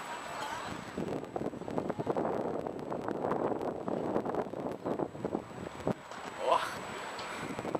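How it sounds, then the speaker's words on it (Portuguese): Wind buffets a microphone outdoors, a rough, gusting rumble that swells and eases throughout, with brief spoken exclamations partway through. "Tá ventando, né?"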